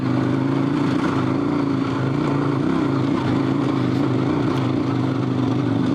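Dual sport motorcycle on Heidenau K60 Scout tires climbing a hill in second gear, engine droning loudly and steadily close by with slight rises in pitch, no voices.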